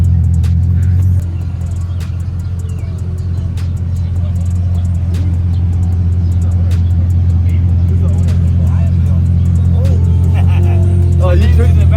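A Bugatti supercar rumbles at idle close by, a deep steady engine drone with a slight rise near the end, while people talk over it.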